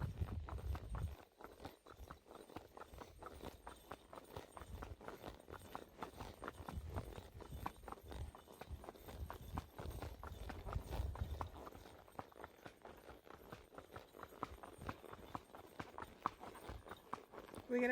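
A nervous horse walks along a trail on a ride, its hooves giving a steady, even clip-clop close by for the whole stretch, with a few quiet bits of talk from the rider.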